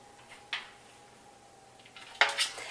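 Metal cookie sheet clatters as kale chips are placed on it, one light knock early, then a louder cluster of clanks near the end, in a quiet kitchen.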